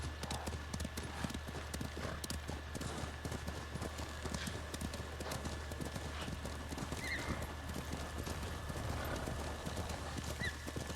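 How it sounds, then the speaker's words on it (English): A horse in the Ghost of Tsushima video game clops along steadily at a trot, hooves thudding in a continuous rhythm, with occasional neighs and whinnies rising over the hoofbeats and ambient game sound. "look, listen to this horse. It's such a crybaby."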